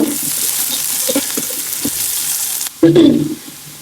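Onion and garlic fry in a little oil in a pan, giving a steady close sizzle with a brief stir and clatter near the end.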